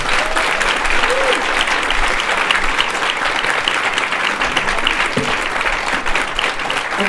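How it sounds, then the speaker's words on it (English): Steady, dense applause from an audience honoring women community leaders, loud and sustained throughout with a faint murmur of voices beneath. "Let's give them a round of applause"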